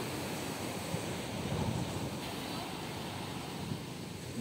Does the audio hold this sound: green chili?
no